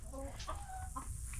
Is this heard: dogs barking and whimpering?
no